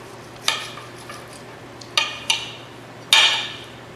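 A sharp knife slicing through a 2-inch thick sous vide pork chop on a board, with four or five separate close scraping strokes, the last one longest and loudest.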